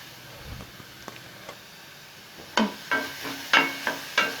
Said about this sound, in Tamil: வெங்காயத்தை வதக்க போகிறோம்